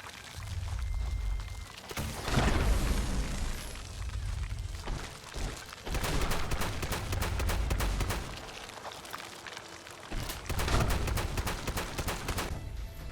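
Explosive Gauss shotgun blasts aimed at a mirelurk's legs in Fallout 76, loud booming shots repeating in irregular bursts with crackling explosive impacts, a sustained barrage with brief lulls.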